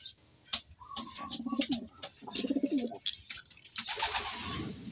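A racing pigeon, back home after a smash race from Mabitac, Laguna, gives several soft, rolling coos in short bursts, close by, with faint background chirps.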